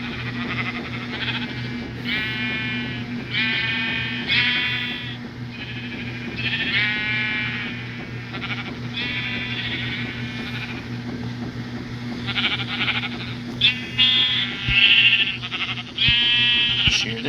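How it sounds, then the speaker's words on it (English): Repeated sheep bleats from Minecraft sheep come in short tonal bursts at a steady pace over a constant low electronic hum, with no talking. "Shear the sheep. Shear the sheep."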